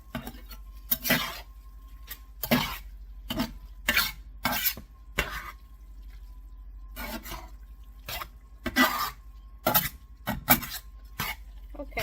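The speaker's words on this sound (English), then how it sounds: "I'm going to finish stirring this up" Elk enchilada filling being stirred in a pan, a string of irregular scraping and clinking strokes, close and distinct, with a low hum underneath.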